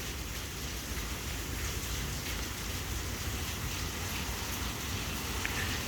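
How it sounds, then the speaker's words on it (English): Heavy rain on New Year's Eve pours down in an even, continuous hiss that fills the whole stretch at a constant moderate level, with no voices or distinct drops standing out. "Be safe in this beautiful rain. Sounding so good."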